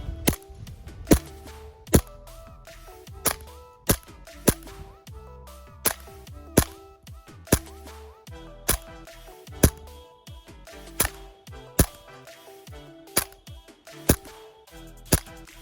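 A Tokyo Marui FNX-45 green gas airsoft pistol fires repeatedly at cans, giving about fifteen sharp, loud cracks at an uneven brisk pace, some followed by metallic pings from the targets.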